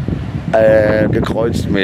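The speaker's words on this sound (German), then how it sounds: "Super windig geworden. Richtig Wind entstanden." Strong night wind buffets the microphone with a steady low roar beneath a man's close, continuous talking, at a roundabout on an avenue in Playa del Inglés.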